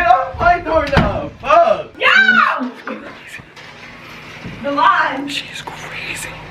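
Someone bangs on a bedroom door, with heavy thuds and knocks mixed with loud, agitated voices arguing close by.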